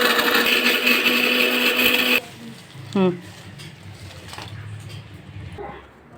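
A loud mixer grinder whirs steadily for about two seconds, then cuts off abruptly, leaving quieter room sounds and a few clicks.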